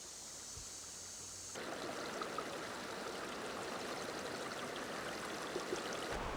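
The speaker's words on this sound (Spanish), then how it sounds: "permite el paso de las corrientes de agua que llegan desde las paredes del Rift" Water from a forest stream at Lake Manyara in the Rift flows in a steady, close rushing babble that runs without a break through the whole stretch.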